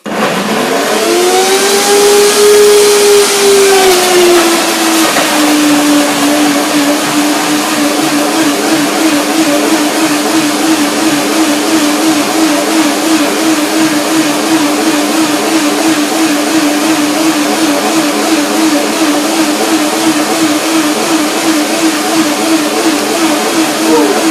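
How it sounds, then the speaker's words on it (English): A blender whirs loudly and continuously while blending apple, ginger and banana, its motor pitch sliding down at the start as it settles into a steady, close, rough drone. "Apple, ginger, banana. Let's see. Blender dance, and then we'll see."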